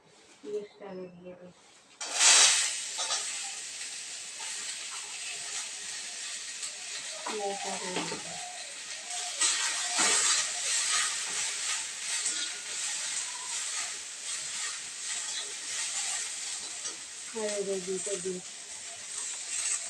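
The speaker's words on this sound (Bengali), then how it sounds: "পিঁয়াজটা দিয়ে দেবো।" Onion frying in a pan makes a continuous sizzle and hiss after a sharp start, with stirring scrapes and brief speech in between.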